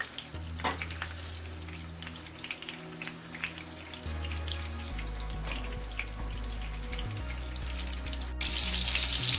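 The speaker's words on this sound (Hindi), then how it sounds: "अब इसे हम फ्राई करेंगे।" Chicken and potato kababs frying in a pan of hot oil, giving a steady close sizzle with crackling pops throughout, rising slightly in intensity near the end, with no talking.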